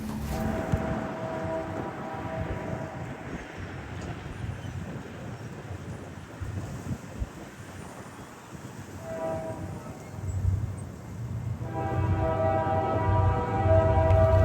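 A Union Pacific MFW EP10 freight train barrels through Weatherford, Texas: a steady, loud rumble of rolling wagons with a sustained horn tone, swelling and growing heavier and closer toward the end.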